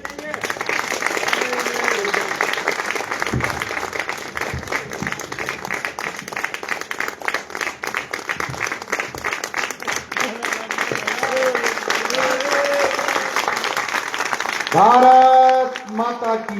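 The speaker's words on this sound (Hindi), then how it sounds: "एक बार जोरदार तालियों से देवास से हमारे बीच में आदरणीय शशिकांत जी यादव" Audience at an all-India Hindi poetry gathering (kavi sammelan) in Sironj breaks into sustained clapping, a dense, steady wash of applause under crowd noise and talk that lasts the whole stretch, with a short tonal swell near the end.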